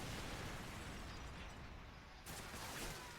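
A grenade explodes in Call of Duty 4 during a LAN match on the Backlot map, a dense, noisy blast roar filling the clip at low level, with a second burst after a brief dip.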